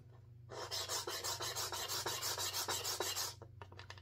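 A small piece of wood is rubbed back and forth across a board faced with 220-grit sandpaper, a close rhythmic rasping of about a dozen quick strokes that starts and stops abruptly in a quiet room.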